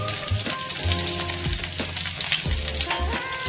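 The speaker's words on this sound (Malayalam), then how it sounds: "കുറച്ച് വെളിച്ചെണ്ണ ഒഴിച്ചു ഉള്ളി അരിഞ്ഞ് വെച്ചിട്ടുണ്ടായിരുന്നു അതിട്ടു" Chopped onion frying in coconut oil, a close, continuous crackling sizzle with low rumbling stirring or scraping strokes recurring about once a second underneath.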